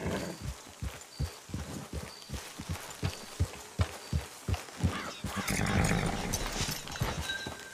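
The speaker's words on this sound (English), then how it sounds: "It's your horse." Horse hooves in the video game Red Dead Online: steady, rhythmic clip-clop of hoofbeats up close, quickening into a denser run toward the end, with no talking.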